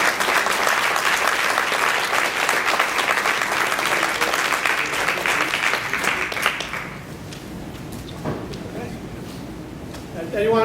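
An audience at an FFA school meeting applauds Mr. Dietrich with a sustained burst of clapping that fades out after about seven seconds, leaving quieter room noise.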